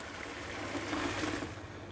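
Boiled vegetables and their cooking water are poured into a strainer, giving a steady, close splashing gush of draining water that swells slightly midway and carries on for about two seconds with no talking.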